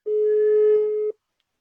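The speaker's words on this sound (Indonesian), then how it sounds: "Saya coba telepon dulu ya" A single steady telephone tone rings clean and loud for about a second before cutting off sharply into silence, heard alone as a call is attempted.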